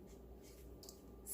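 Pen writing on paper while drawing a dollar bill, soft close scratchy strokes in a quiet room, ending in a slightly louder scrape.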